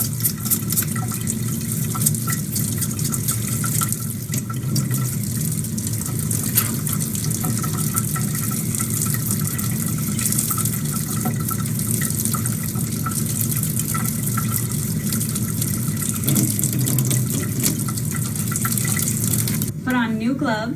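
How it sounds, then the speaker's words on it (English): Tap water runs steadily into a pan for instrument cleaning in a permanent makeup room, a continuous gushing fill heard up close under a voice speaking throughout. "fill the rest of the pan with water"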